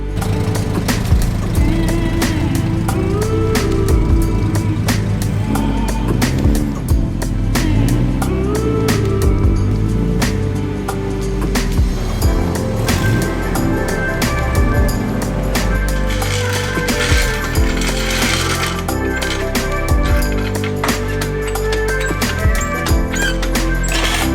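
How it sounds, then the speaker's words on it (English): A turbocharged car engine idles and runs loud and steady right after a turbo install, its first start-up, with the pitch rising and falling in revs over a constant mechanical drone. "get the car started"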